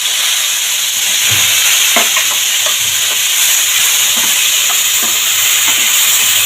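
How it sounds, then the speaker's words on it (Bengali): Mushrooms fry lightly in hot white oil in a frying pan, giving a steady, close hiss of sizzling with a few soft stirring knocks throughout and no voices. "মাশরুমগুলো হালকা ভেজে নেব, একদম হালকা, কোনো রকম একটু নাড়াচাড়া দিয়ে নামিয়ে নেব।"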